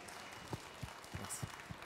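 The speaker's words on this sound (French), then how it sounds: "On applaudit Mourad Hadouche, s'il vous plaît" Brief scattered clapping from a live cooking-show audience applauding chef Mourad Hadouche at Cuisines en Scènes, a few separate claps rather than a full ovation, fairly faint and distant.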